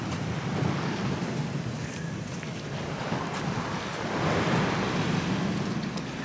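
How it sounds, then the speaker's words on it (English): Sea waves washing in on a beach shore, a continuous rushing surge mixed with heavy wind buffeting the microphone, swelling louder toward the end as a wave breaks close by. "I can see when the waves are going to come in and I can avoid them."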